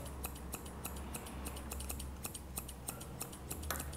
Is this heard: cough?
no